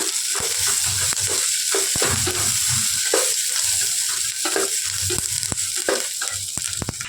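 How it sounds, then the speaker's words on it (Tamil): Steady sizzling of onions and garlic sautéing in a hot pan, with repeated scraping and stirring strokes throughout; no talking. "அதையும் சேர்த்துட்டு நல்லா வதக்கி விட்டுறலாம்"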